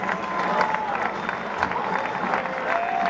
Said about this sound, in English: This crowd, they gave him a standing ovation.